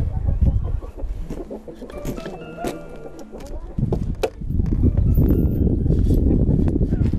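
Hens cluck inside a chicken coop in a rural Korean mountain village, with scattered rhythmic clucks and rustling close by while a narrator speaks over them.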